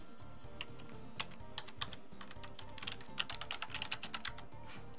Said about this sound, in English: Can you hear me violently clicking all of the buttons on my keyboard?